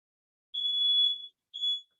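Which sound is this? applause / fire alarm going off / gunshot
fire alarm going off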